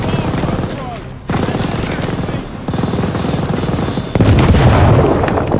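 Sustained machine gun bursts and booming explosions from the Call of Duty: Vanguard Operation Tonga mission, loud and dense, the rattle breaking off briefly twice before surging back heavier.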